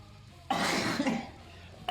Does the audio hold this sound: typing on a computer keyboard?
no